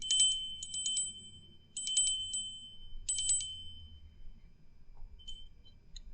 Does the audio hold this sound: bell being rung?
yes